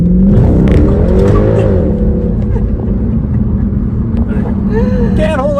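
A Mercedes C63 AMG W204 engine pulls hard in first gear, a loud, steady rumbling drone that holds throughout with a faint whine rising near the end, while someone talks over it.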